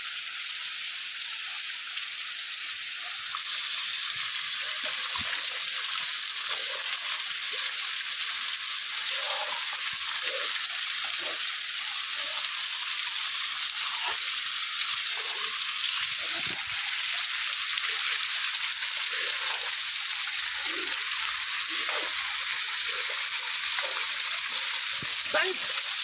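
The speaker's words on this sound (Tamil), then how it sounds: "சம்மர் சீசன்காட்டி தண்ணி ரொம்ப கம்மியாக வருது." Water pouring down the Namaruvi waterfall at Kolli Hills, a steady broad rushing hiss that holds constant throughout, fairly close and even, with no clear talk over it.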